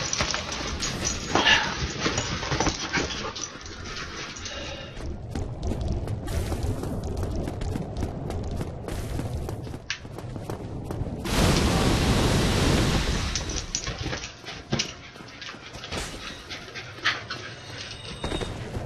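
Several dogs inside a house pant and whimper close by, with occasional faint whines over a steady breathy background; no talking.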